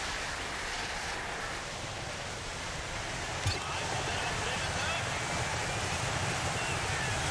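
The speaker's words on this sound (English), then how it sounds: "you actually just listen more to the car going on the snow than the actual engine" A car drives over snow in the racing game DIRT 5, a steady hissing, crunching roll of tires with the engine barely present and one brief click midway.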